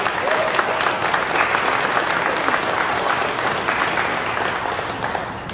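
A room full of people applauds MPs at a Sudbury public transit funding announcement, a loud, even roar of clapping sustained throughout and tapering slightly at the end.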